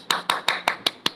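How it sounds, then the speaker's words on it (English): Six sharp hand claps ring out in a quick, steady rhythm, each loud and close with a brief decay, a brisk fast clapping beat with no talk. "Clap, clap. A loud clap,"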